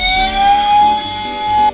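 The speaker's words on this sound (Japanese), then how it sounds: "この救急車も鍵が開いたり、クラクションが鳴ってサイレンが鳴らせるよ。" Toy ambulance siren sounding briefly, a loud electronic tone held steady and then cutting off abruptly, close up with no voices.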